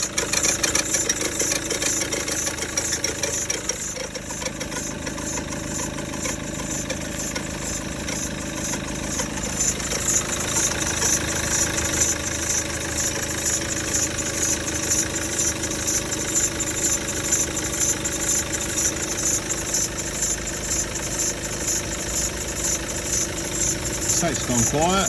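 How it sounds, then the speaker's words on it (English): A Maxus van's diesel engine ticks over at idle, a close, loud and steady clattering hum with a regular mechanical knock, running without pause. "It's ticking over, ticks over brilliant."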